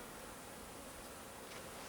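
Honey bees buzz around an apiary hive on a sunny January winter cleansing flight, a soft, continuous hum of many insects at moderate distance.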